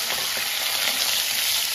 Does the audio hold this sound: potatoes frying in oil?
yes